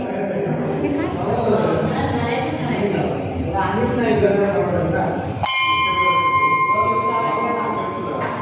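A temple bell at a village goddess shrine in Kasarde, Konkan, rings out once, loud and bright with a long shimmering decay, after several seconds of people talking and crowd murmur.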